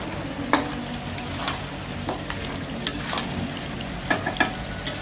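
Chicken and mutton cook in a pan, giving a steady sizzling hiss with occasional light clinks and scrapes of a utensil, heard close and without talk.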